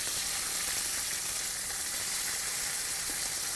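Chicken fries in a pan over medium heat, giving a steady, dense sizzle that holds even and close for the whole stretch, with no talking.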